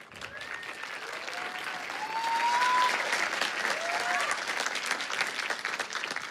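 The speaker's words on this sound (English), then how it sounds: "every last one deserves the same amount of applause." An audience claps at a film school graduation ceremony, sustained dense applause that swells and holds, with a few faint whistles and cheers over it.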